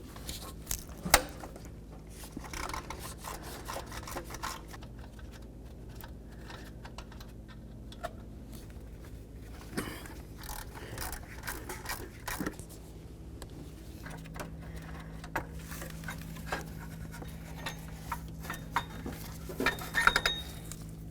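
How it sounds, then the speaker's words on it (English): Metal tool clicks and light rattles while the belt tensioner mounting bolts come out on a 1999-2007 Ford F250, scattered close taps and ratchet-like ticks over a quiet hum, without speech. "The next thing we need to do is start removing our 3 mounting bolts."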